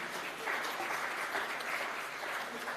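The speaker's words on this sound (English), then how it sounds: "We could give them a round of applause today." Applause from an audience at a Valentine's festival panel, a moderately distant, steady patter of many hands clapping that continues evenly for the whole stretch.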